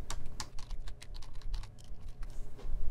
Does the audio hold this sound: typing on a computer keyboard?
yes